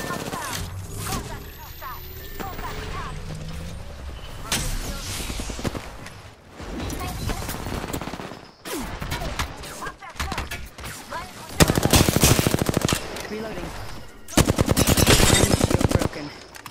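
Rapid automatic gunfire from Apex Legends, loud bursts of machine-gun fire in close, repeated volleys with short pauses, the heaviest rattling near the end, mixed with game effects and voices talking over it.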